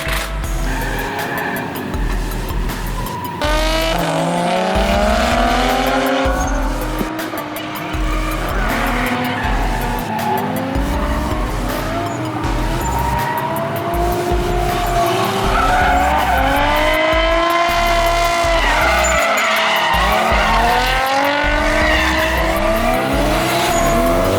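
A rowdy drift car skids through a charity ride-along run, tires squealing in long rising and falling sweeps over a loud revving engine, continuous and close for the whole stretch.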